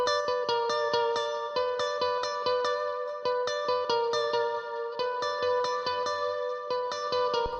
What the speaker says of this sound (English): Sounds really nice with a panning delay.